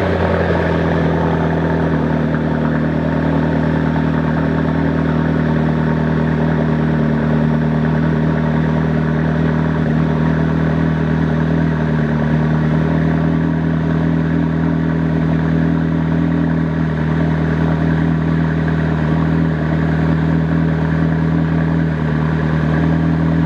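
A vehicle engine runs after a cold start, loud and close, idling in a steady, unbroken drone with a constant low rumble throughout.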